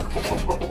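Chickens, including foreign breeds, clucking close by in a short, busy burst, several birds overlapping with no voices.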